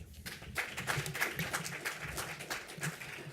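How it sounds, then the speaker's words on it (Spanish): Applause from an audience at a literary round-table debate, a moderate patter of clapping that rises after a brief quiet start and continues fairly evenly to the end. "Un aplauso, por favor."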